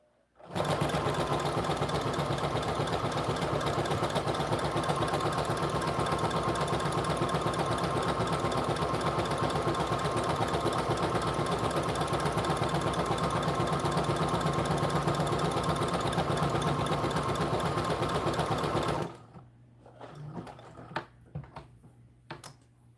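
A sewing machine stitches a fabric doll skirt with a steady, close, fast mechanical whirr that runs unbroken for most of the time, then stops abruptly, leaving a few faint handling clicks.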